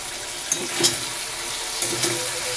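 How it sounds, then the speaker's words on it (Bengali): Sliced tomatoes with green chillies and salt frying in a pan for red lentil dal, a soft steady sizzle with a few light stirring clinks. "নুন দিয়ে টমেটোটা ভেজে দিচ্ছি যাতে নরম হয়ে যায়"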